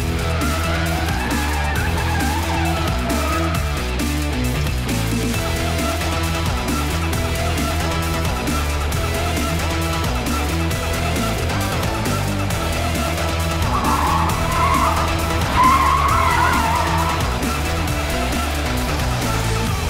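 An Audi e-tron electric car drives hard around a test track with a steady loud rolling hum of motor, tyres and wind, and tyres squealing in spots through corners, heard without talk throughout.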